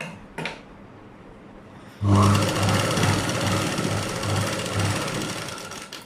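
A domestic sewing machine stitches blouse fabric, a 36-inch blouse, starting abruptly after a quiet pause and running steadily loud, with a rhythmic low motor thrum.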